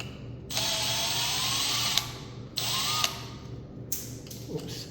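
A cordless power drill backs out four ceiling fan screws in three steady whirring runs of one to two seconds each. The motor whines up and down in pitch over a low hum.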